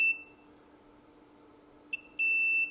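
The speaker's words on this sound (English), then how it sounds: "I can use the continuity function of my meter to check for R2." A multimeter on its continuity setting gives a short high beep, a brief chirp, then a sustained tone as a circuit board trace is probed.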